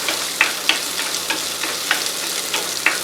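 Onions sizzle loudly in a pan for crab curry, a close, constant frying hiss punctuated by several sharp scrapes of a spatula at uneven intervals, with no talking.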